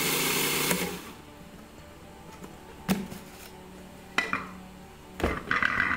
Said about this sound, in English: And grind up all the cookies